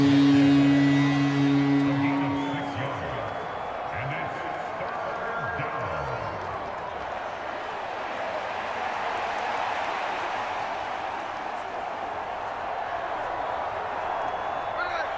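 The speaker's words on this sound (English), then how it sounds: "Crowd on their feet." Stadium crowd noise in the Madden NFL video game during a Seahawks versus Patriots match, a broad steady roar running under a commentator's voice, louder at the start and then settling.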